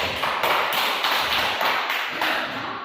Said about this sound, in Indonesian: mari kita beri aplaus untuk kedua kelompok